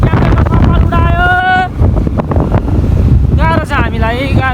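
Strong wind roars and buffets the microphone on a moving motorbike on the road from Sunsari to Kathmandu. The loud, continuous rumble carries on while people talk over it.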